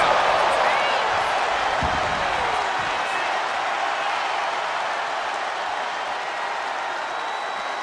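Arena crowd in the WWE 2K25 wrestling video game, a dense, steady roar of cheering and applause that stays loud throughout and eases off slightly toward the end, with a faint commentary voice underneath.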